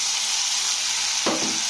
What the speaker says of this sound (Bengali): এরপরে দিয়ে দেবো পেঁয়াজ বাটা।